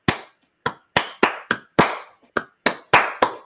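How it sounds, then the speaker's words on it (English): Flamenco-style hand clapping, about ten sharp, close claps in an uneven rhythm with short gaps and clean silence between them. "I learned three different kinds of clap sounds"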